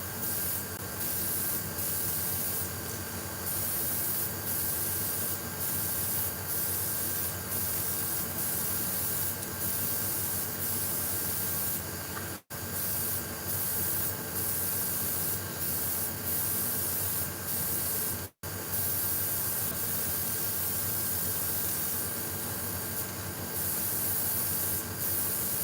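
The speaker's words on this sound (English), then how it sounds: "now you spray it with yellow" Steady close spraying of yellow paint onto a fishing lure blank, a continuous loud hiss lasting about 25 seconds with two very brief breaks.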